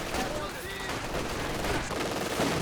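Vickers machine gun firing in Company of Heroes 2, a dense ongoing rattle of automatic fire mixed into a busy battlefield din, with someone talking over it throughout.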